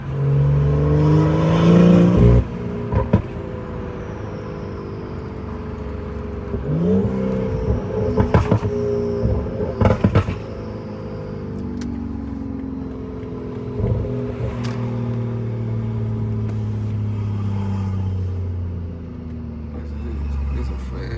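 A stage 2 B58-engined BMW 540i with its exhaust valves open drones and rises in pitch under acceleration at night, heard from inside the car, with a few sharp clicks and someone talking over parts of it.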